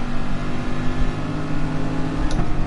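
Car engine in the racing game Gran Turismo Sport, a steady loud droning hum with sustained tonal harmonics, held at a constant pitch throughout with no talk.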